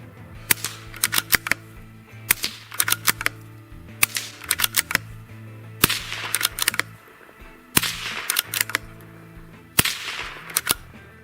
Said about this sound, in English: Now going to shoot 3 shots of subsonic followed by 3 shots of supersonic through each of these suppressors.